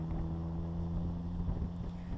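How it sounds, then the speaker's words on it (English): A 1954 Austin Healey 100-4 BN1 with a strong, rebuilt four-cylinder engine drones on a test drive, its exhaust a steady low-pitched hum with a constant tone, fairly quiet and mixed with wind rush. "Hopefully you can hear the nice exhaust note"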